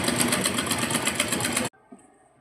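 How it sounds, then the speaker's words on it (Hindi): A sewing machine runs a fast, even stitching rattle through fabric, sewing a double seam on the chowk side, close and loud for under two seconds before stopping abruptly, leaving faint handling noise. "अब हम इसमें डबल सिलाई लगाएंगे चौक वाली साइड से उल्टी करके"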